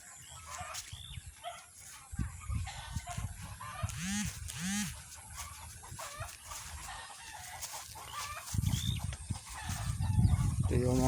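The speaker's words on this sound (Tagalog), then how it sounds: "Daming manok." Several chickens cluck and a rooster crows among farm birds near rice paddies in the rural Philippines, with repeated calls through the scene and a voice speaking briefly in the background.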